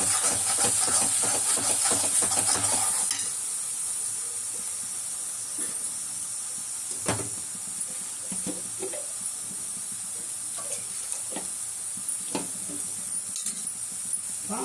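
Ingredients for a fish curry with fish curry masala and salt being sautéed in a pan, giving a steady soft sizzle and hiss with scattered clinks and scrapes, louder for the first few seconds.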